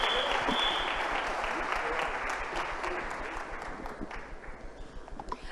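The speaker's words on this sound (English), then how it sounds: "Please give our panelists a round of applause." Convention audience applauding panelists at the close of a panel, a broad sustained clapping that gradually thins toward the end with scattered individual claps.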